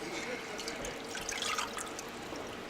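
Water drips and trickles off a turkey resting on a draining rack after being pulled out to drain before frying. It makes a faint, continuous, splashy patter with soft scattered drops, heard close up with no talking.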